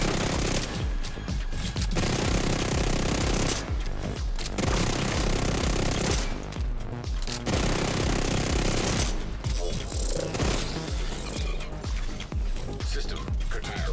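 Sustained automatic gunfire from The Division 2 during Halloween event gameplay, dense overlapping bursts running nearly throughout with short breaks, loud and busy, with a player talking intermittently over it.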